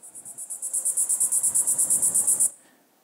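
Game ambience of a cicada chirping in quick, regular pulses, bright and steady for over two seconds before it cuts off abruptly, leaving a short, quiet fading tail.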